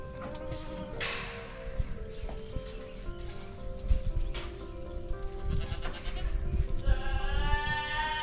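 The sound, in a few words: goats bleating on a meat goat farm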